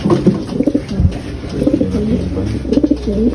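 Pigeons coo in soft repeated bursts, fairly close, with low murmuring between calls and no clear speech.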